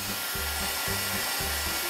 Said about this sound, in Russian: вот такой вот строительный фен